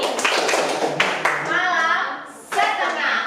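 Schoolchildren clap their hands in unison on a teacher's command during a classroom clapping game, several sharp group claps mixed with children's voices and talk.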